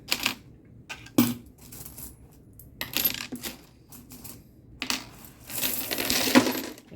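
Coins drop and clatter into a Red Horse coin bank in several bursts, bright metallic jingles and rattles close by, with quiet gaps between handfuls.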